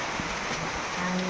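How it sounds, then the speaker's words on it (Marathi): Steady rain falling outdoors in a Konkan village near Rajapur at the start of a stormy monsoon downpour, a continuous broadband hiss with a faint low tone entering near the end. "आवाज येतोय तुम्हाला? पाऊस पडतोय."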